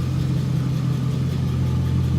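A 2001 Camaro Z28 SS SLP with a 350 V8 idles with a deep, steady exhaust rumble, loud and close, without any speech over it.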